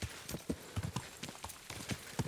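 Horse hooves clip-clop in a steady walking rhythm, faint and distant, from the video game Kingdom Come: Deliverance II, with no speech over them.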